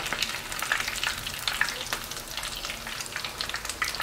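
Hot oil sizzles and crackles steadily in a pan as food fries, with a constant dense hiss and small scattered pops throughout, close and moderately loud.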